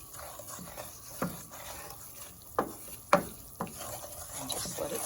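A wooden spoon stirs oil and spices in a pan for homemade enchilada sauce, giving a few scattered scrapes and knocks over a soft steady sizzle, close, with no talking.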